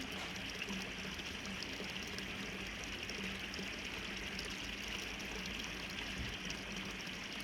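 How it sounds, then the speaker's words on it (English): Water pours lightly and steadily from a small fountain, a soft continuous splashing that stays even throughout with no voices. "This is a light pouring sound for a water feature."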